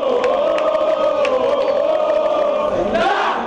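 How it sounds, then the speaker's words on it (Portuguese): Cruzeiro football fans chant a loud, sustained war cry together to welcome the player Dagoberto, a dense massed roar that swells upward near the end. "Dagoberto foi recebido com um grito de guerra pela torcida do Cruzeiro"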